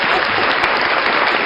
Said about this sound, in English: Oh, applause for that.